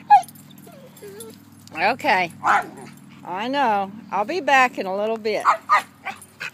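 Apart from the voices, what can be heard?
puppies whimpering and yipping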